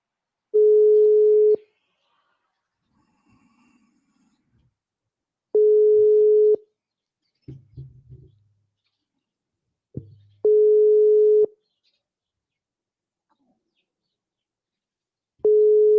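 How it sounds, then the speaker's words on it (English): Repeating phone tones sound on a call: long single-pitch beeps about every five seconds, loud and clean against near silence, with faint rustles and clicks in the gaps. "Let me call you on the phone"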